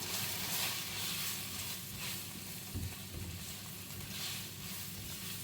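Chilli powder sautéing with eggplant in a pan, continuous close sizzling and frying hiss with a brief stirring knock partway through.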